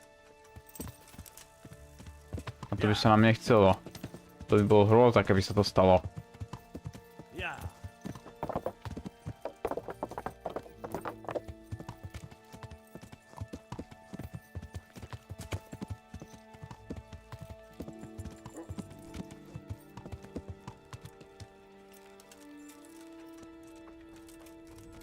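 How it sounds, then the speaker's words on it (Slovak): Horse hooves clip-clop in the medieval video game Kingdom Come: Deliverance, with a steady train of sharp hoof knocks alongside a brief neigh and faint game music. Someone speaks over part of it. "Aha, to je náš koň."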